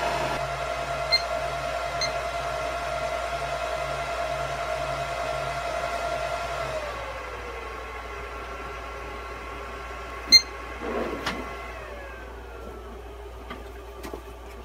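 Supermicro SuperServer Xeon D machines and an Intel i7 NUC6i7KYK power up and run, giving a steady fan hum with a tonal whine that drops in pitch partway through as the fans settle, with a couple of faint clicks later.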